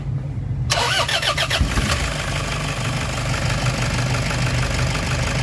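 A Toyota D4D diesel engine with a throttle delay issue cranks and fires up, then settles into a steady, rough, loud idle that continues alone.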